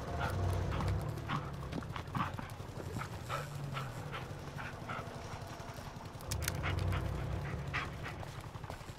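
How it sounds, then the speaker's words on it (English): A dog in the video game Blair Witch pants rhythmically up close, quick breathy huffs repeating through the scene, with brief louder stretches and scattered footstep-like clicks. "Yeah, good dog."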